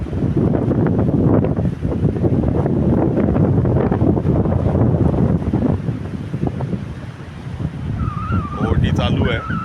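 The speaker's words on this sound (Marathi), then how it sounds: "लाटांचा मंद आवाज आहे फार काही आवाज नाही आहे लाटांचा समुद्र शांत आहे आज" Soft, continuous surf of a calm sea washes in beneath a voice talking, with some wind buffeting the microphone throughout, on Palande Beach in the morning.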